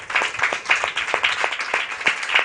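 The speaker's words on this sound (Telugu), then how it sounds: "గట్టిగా చప్పట్లు కొట్టి దేవుని మహిమపరుస్తాం" A church congregation claps loudly in a steady rhythm, with many hands hitting together in repeated, even bursts that fill the room.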